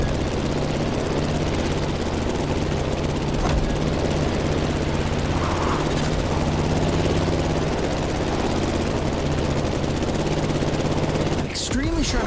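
In The Crew Motorfest video game, a propeller plane's engine drones steadily and loudly with a throbbing buzz throughout, while a voice speaks over it.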